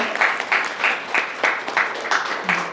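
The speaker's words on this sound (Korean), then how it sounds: "이쯤에서 박수 한번 드려야 될 것 같은데요." Applause from a modest audience at an exhibition opening press conference, a steady patter of clapping rising and falling in soft waves for a few seconds.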